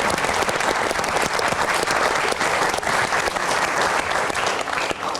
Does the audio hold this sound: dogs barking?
no